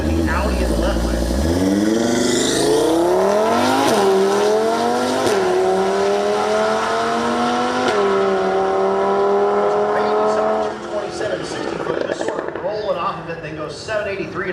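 An Audi drag car launching down the left lane at a drag strip, the engine revving hard then climbing through rising gear pulls, loud and close, with an announcer's voice over the roar before it fades.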